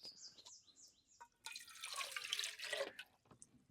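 Water poured into a camp cooking pot on a FIREMAPLE Star X2 Pro stove system, a close splashing trickle running for about a second and a half and then tapering off, with faint chirps around it.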